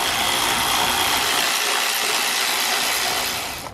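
Ratchet undoing 5mm Allen bolts on the rear engine cover of a BMW M47/M57 diesel, a rapid, continuous clicking close up that stops abruptly near the end with a brief knock.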